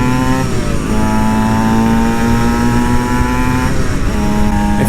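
Aprilia SX-125 two-stroke supermoto motorcycle engine under way, a loud, close, buzzy drone that holds steady and shifts pitch slightly as the throttle changes, with no talking.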